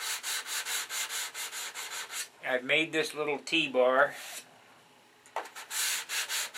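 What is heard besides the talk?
sanding a P47 Thunderbolt model with 320 grit sandpaper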